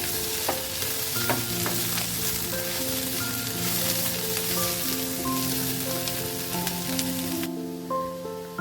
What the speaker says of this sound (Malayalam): നല്ല വെളിച്ചെണ്ണയിൽ കിടന്ന് നല്ലോണം വഴന്നു വന്നത്.